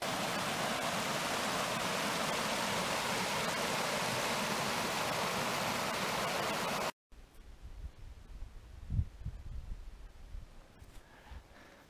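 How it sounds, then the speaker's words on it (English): Waterfall plunging off a canyon wall at Cascade Creek, Colorado, a loud, steady broadband roar that fills the first seven seconds, then cuts to quieter outdoor ambience with faint rustling. "there's a huge waterfall right there. It's just dropping off the canyon."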